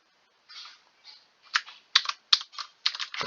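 Keys on a computer keyboard tapped in short bursts while entering Control key shortcuts in the Turbo C editor, with close, crisp clicks arriving in uneven clusters after a brief silence.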